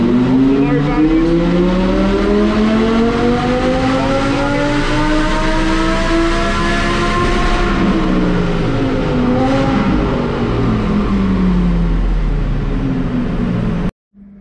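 An Audi R8 V10 with forced induction is run at full throttle on a dyno, a loud, steady engine roar climbing in pitch, holding near the top, easing down and then rising again before cutting off abruptly.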